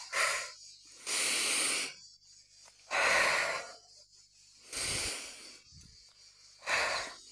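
Slow, deep breaths in and out, five airy whooshes close to the mic with short pauses between them, each one loud and breathy.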